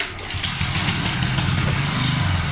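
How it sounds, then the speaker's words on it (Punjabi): A generator at a concrete construction site starts up, its engine catching and settling into a steady, loud mid-pitched chugging run with no talking. "ਜਨਰੇਟਰ ਸਟਾਰਟ ਕਰ ਰਹੇ ਨੇ ਉੱਥੇ"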